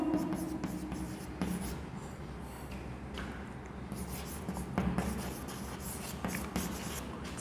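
Pen or chalk scratching across a board in a fitter theory class on file classification, soft steady strokes with brief pauses, set against a roomy hum and no clear talking.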